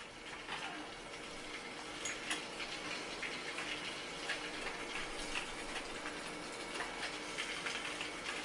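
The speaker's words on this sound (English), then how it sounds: "Spraying fucking water everywhere." In the SAW video game, water sprays steadily inside a barbed wire room as a constant hissing gush with faint ticking and dripping, even and moderately quiet throughout.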